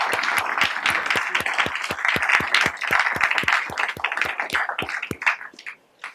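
Lecture audience applauding a distinguished speaker, a room full of steady, fairly close hand claps that taper off near the end.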